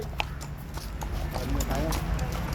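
A ridden horse's hooves clop on pavement in Baguio City, a quick steady rhythm close by, with people chatting and laughing over the hoofbeats.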